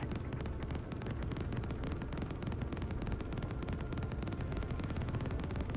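Dense, continuous gunfire from a space-station shooter video game, rapid overlapping shots and booms filling the whole stretch at steady loudness with no talking.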